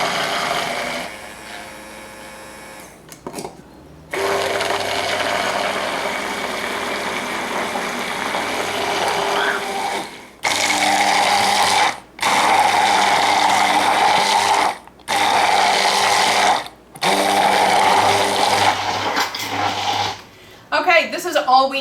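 A blender whirs loudly in several bursts as it purees an avocado spread with half a cup of oil poured in, the motor starting and stopping with short pauses between runs and some quieter talk at the start.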